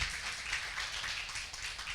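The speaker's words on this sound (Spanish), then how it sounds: "Dele un fuerte aplauso al Señor" Church congregation clapping in applause during a Spanish-language service, a brief, steady wash of many hands clapping together at moderate volume.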